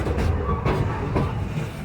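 A Serengeti Railway train at Busch Gardens rumbles and clatters steadily along its track, loud and close, with rhythmic clickety-clack wheel knocks.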